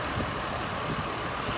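A 2004 GMC Envoy with a 4.2L engine runs and is held at about 1500 RPM, a steady, even engine drone with no talking.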